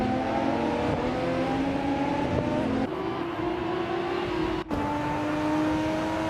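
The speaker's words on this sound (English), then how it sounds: "Duro Aurelia is currently in about the 14th place, driving a 2019 IPS Kuruma" A 2019 IPS Kuruma engine races steadily in a video game, a continuous loud motor drone with smooth pitch shifts and a brief dip near the end, no talk over it.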